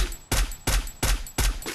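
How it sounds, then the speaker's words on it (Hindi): Gunfire in the mobile battle royale game Garena Free Fire: four loud, sharp bursts come at a steady, roughly even rhythm, with no talking. "मेरे को गोली चला रहा था"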